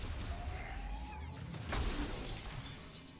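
Frosted glass shatters in Metroid Prime 4: Beyond, a faint sharp crash with brittle scattering debris around the middle, over a low hum of background game sound.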